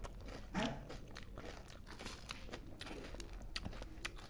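Crunchy bites and chewing of fresh homegrown jackfruit with puffed rice, close and intimate, a steady run of soft crunches with small sharp snaps amid faint background noise.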